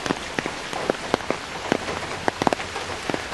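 Heavy rain pours onto a surface during flooding after hours of downpour, a steady close hiss broken by frequent sharp drips and splashes, with no voices.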